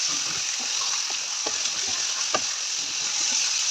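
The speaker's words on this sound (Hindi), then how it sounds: "चिकन को कर लेंगे, चिकन को देंगे हम एक अच्छा सा मिक्स।" Chicken for chicken karahi frying in a pan, a loud continuous sizzle with occasional scraping knocks from stirring, close and steady throughout.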